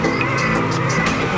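An enduro motorcycle's engine revs hard as the rear wheel spins for grip on a steep climb, giving a loud, continuous straining whine with brief surges over about a second and a half.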